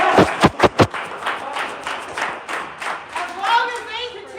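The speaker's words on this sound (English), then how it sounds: "Give yourselves a round of applause" A few sharp, close claps open, then scattered crowd clapping and cheering follows at a street rally protesting police racism, and voices rise over it toward the end.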